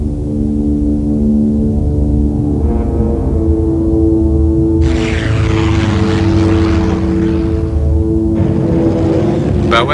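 A propeller-driven Avenger torpedo bomber drones loudly and steadily in flight, its engine a deep sustained roar with shifting tonal layers throughout.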